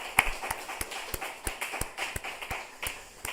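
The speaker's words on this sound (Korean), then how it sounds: "우리 따뜻한 박수로 한번 축하하도록 합시다" A church congregation gives a short round of applause during a Sunday worship service, with sparse, evenly spaced claps sounding fairly close and light.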